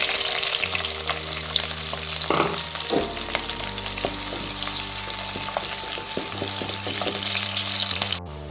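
Chopped onion frying in hot coconut oil for a Kerala-style bread egg masala, a steady loud sizzle with stirring clatter and scraping, close and continuous, with no voices.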